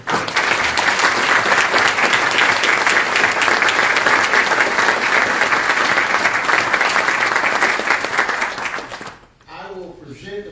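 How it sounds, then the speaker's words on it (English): A crowd at a Tarrant County commissioners court meeting gives a long, loud round of sustained applause for a championship team, steady for about nine seconds before it fades out and a voice begins talking. "Let's give that team a round of applause."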